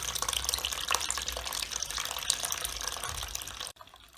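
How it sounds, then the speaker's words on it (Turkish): Water pouring steadily from a washing machine drain hose into a container, a close, loud splashing gush that stops abruptly near the end. "İkinci kabımız da doluyor. Su hala bitmedi."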